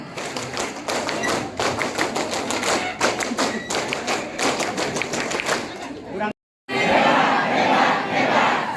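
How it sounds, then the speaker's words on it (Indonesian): A group of Pramuka scouts at a national training center in Cibubur claps in sharp unison patterns with chanting voices, rhythmic bursts of synchronized hand claps, then a brief pause before a louder crowd shout and clapping resumes. "Dua kali tepuk pramuka."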